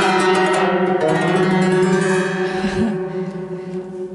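Guzheng strings plucked and strummed on the left side of the bridge, giving a dense, shimmering, eerie wash of unpitched metallic tones that rings on and slowly fades, solo and close.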